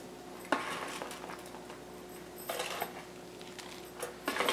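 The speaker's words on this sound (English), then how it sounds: "I'm going to mix this all together." A spoon scrapes through cooked lamb biryani in a pot, giving a few distinct metallic scrapes and clinks spread apart, moderately close with no talking.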